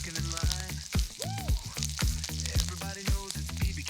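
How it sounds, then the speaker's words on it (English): Grilled pork for bun cha sizzles and spits steadily on a smoky Hanoi street-food grill, a close, continuous frying hiss broken by repeated sharp crackles and scraping strokes. "This is smoky, sizzling street food at its best."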